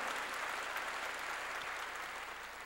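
A church congregation claps for God during a sermon, a faint, even wash of many hands clapping that holds steady and unbroken throughout, with no voices over it.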